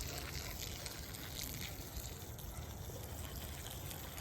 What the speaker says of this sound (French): Dernière étape, on arrose abondamment.